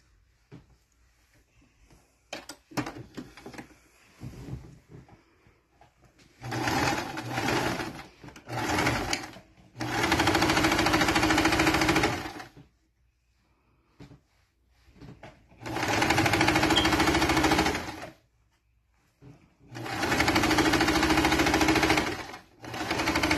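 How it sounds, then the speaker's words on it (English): A sewing machine stitches down fabric on a bow turban hat in three long, loud, steady runs of rapid whirring, each separated by quiet pauses, preceded by scattered clicks and handling noises. "I will use my sewing machine now and sew it down."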